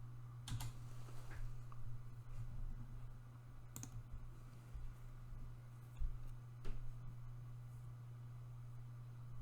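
Typing on a computer keyboard: soft, quick key clicks in loose bursts over a steady low hum, faint and close, with a few louder isolated taps.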